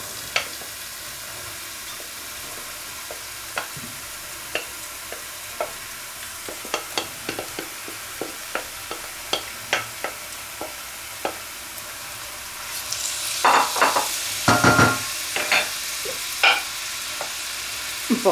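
Green and red bell peppers frying in a pan, a steady sizzle punctuated by regular spatula scrapes and taps, swelling into a louder burst of frying and stirring near the end, close and without talking.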